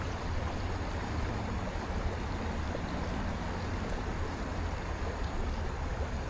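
A creek's current flows steadily over rocks, a continuous broadband rush of moving water, near and even throughout, no voices.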